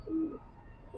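A pigeon of Ambersire bloodline gives a short, soft low coo, close and quiet, with the start of another at the very end.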